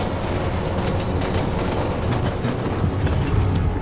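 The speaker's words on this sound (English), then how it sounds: "The Prague metro!" A Prague metro train in Deus Ex: Mankind Divided, heard as a loud, continuous rumble with rail clatter and a thin high wheel squeal running throughout. No voices.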